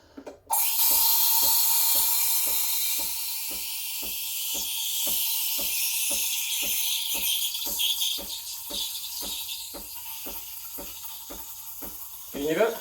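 The steam wand of a Breville Barista Express BES870 froths milk, giving a loud, continuous hiss with a regular, rapid ticking sputter as air is drawn in, ending with a brief surge.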